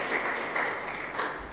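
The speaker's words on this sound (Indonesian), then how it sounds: "Boleh tepuk tangan buat Tuhan Yesus yang baik." A church congregation claps for Jesus during a sermon, a brief steady wash of applause filling the room at moderate volume, no voices over it.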